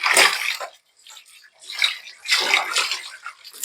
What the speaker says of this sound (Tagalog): Hugasan natin yung green salad.